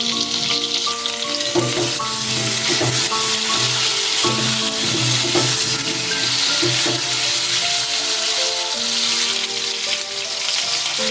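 Potatoes fry with spices and salt in a pan, a loud continuous sizzle close up with occasional stirring scrapes, steady throughout and alone over soft background music.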